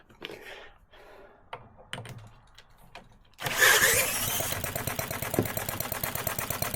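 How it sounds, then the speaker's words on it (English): A small four-stroke petrol model engine from a DIY kit starts partway through after some clicking and handling, then runs steadily with a fast, buzzing, rattly beat close by. "Actually, it's a 4-stroke petrol engine. And it runs really well."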